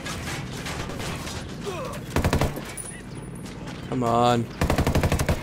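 Automatic gunfire in the open-world shooter Ghost Recon Wildlands, with repeated rapid bursts of rattling shots close by amid mechanical clatter, as someone speaks briefly between the volleys.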